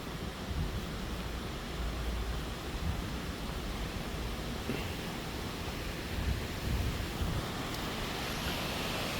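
Steady rushing of a river stream flowing through a gorge on a university campus, a continuous broadband wash of water that stays even and close throughout with no voices.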